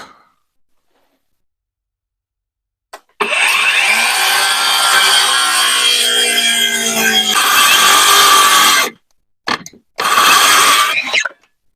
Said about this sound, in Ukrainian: Використаю знову дискову пилу.